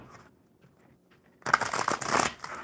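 Slippery playing cards are shuffled in a sudden burst of riffling after a quiet lead-in, close and crisp, continuing to the end.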